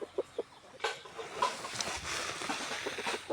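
Chickens on a poultry farm give short, scattered clucks close by over a low barn-like background, with no talking.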